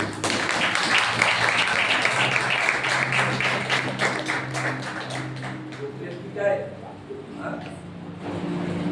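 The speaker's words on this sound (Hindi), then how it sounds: "ताली बजाइए यीशु के लिए।" Church congregation at a Sunday sermon clapping in a room, fairly faint and steady, with a low hum underneath and a brief lull before it resumes.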